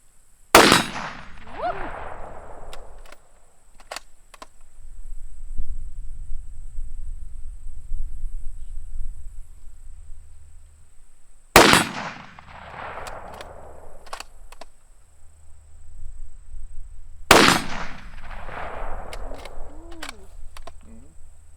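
Three sharp, loud firearm shots crack out at a shooting range several seconds apart, each followed by a decaying echo, with quiet low rumble between them.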